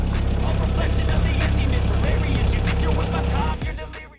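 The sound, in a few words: Audi car engine warming up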